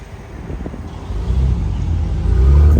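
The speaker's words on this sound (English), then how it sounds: "We got more cars pulling up." Cars roll in at a car meet with a low, building engine rumble that grows louder toward the end, close by, with some wind buffeting the microphone and no speech.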